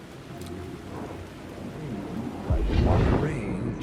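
Rain and rolling thunder in the video game Alan Wake II: steady rainfall hisses throughout, then a deep, loud thunder rumble swells in the final second and a half.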